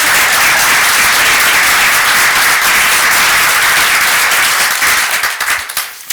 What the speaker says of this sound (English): I think that deserves a little applause.